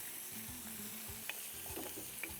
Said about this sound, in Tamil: இதை எல்லாத்தையும் நல்லா அழகாக தூக்கு மாதிரி வதக்கிடணும்